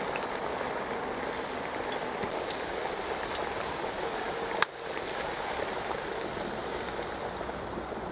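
Potatoes fry in a kazan over an open fire outdoors in cold weather, a dense, steady hiss of bubbling oil with one sharp click midway and no talking.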